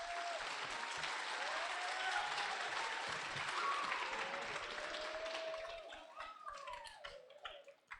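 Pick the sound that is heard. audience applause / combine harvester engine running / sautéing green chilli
audience applause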